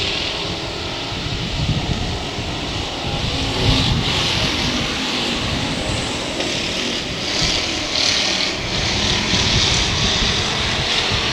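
Race cars roar around a Texas dirt speedway late in a feature race, running side by side out of turn three into four, a steady loud engine drone with swelling passes throughout.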